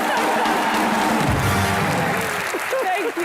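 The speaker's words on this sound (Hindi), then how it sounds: "जोरदार तालियां सुष्मिता सेन के लिए।" A television studio audience applauds and cheers for Sushmita Sen in a steady, loud wash of clapping and crowd noise, while a presenter's voice talks over it.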